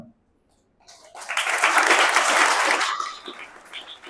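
Students standing and clapping in a classroom, a burst of dense applause that rises after a short silence, holds for about two seconds, then tapers into scattered claps.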